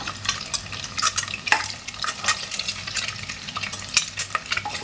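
Masoor dal ingredients fry in a pan under brisk stirring, a loud close sizzle broken by rapid scraping strokes and the occasional clink of the spoon against metal, with no voices.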